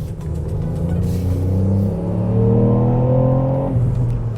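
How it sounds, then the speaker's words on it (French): A Ford Puma ST's small three-cylinder engine revs up loudly and steadily, its pitch climbing in a smooth sweep before easing off near the end. "le moteur répond bien. Pour un 3 cylindres, c'est assez impressionnant."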